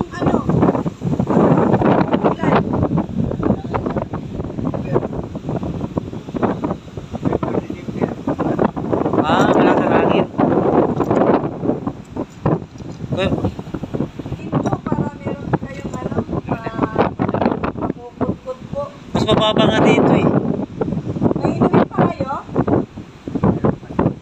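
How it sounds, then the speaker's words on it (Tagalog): Strong wind roars and buffets the microphone continuously, with people talking intermittently beneath the gusts. "Ang lakas ng hangin."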